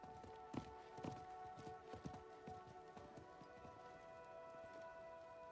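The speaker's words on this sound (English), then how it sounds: "I think that was the merchant's horse." Video game sound from Diablo 4: a horse's hooves clip-clop on a hard surface at a walking pace, quiet and rhythmic, gradually fading as it moves away.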